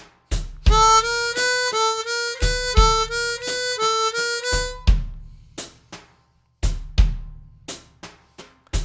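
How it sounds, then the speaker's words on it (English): Rhythmic chromatic harmonica phrases in a slow E blues, steady triplet feel, three notes to each beat, played loud and close over a backing track with bass and drum hits. "Number 3, a triplet feel with three notes per beat"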